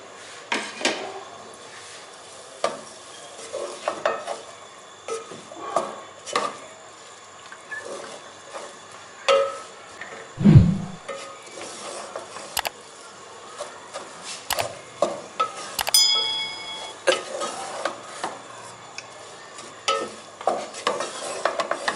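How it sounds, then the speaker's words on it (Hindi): Coarsely crushed cumin, black pepper and garam masala dry-roasting in a pan over medium-low flame, a long run of rhythmic scraping and stirring strokes with faint sizzle and an occasional louder knock, close and without talk. "अच्छा अभी इसको हमने बस अच्छे से भूनना है, ज़्यादा नहीं बस करना है इसको।"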